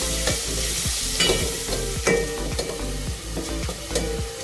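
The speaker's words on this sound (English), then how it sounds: "Saute well the masalas until nice flavor comes out." Cloves, star anise, bay leaves and masala sizzling in a pan for coconut rice, with a steady fry hiss broken by regular scraping stirs, close and alone without talk.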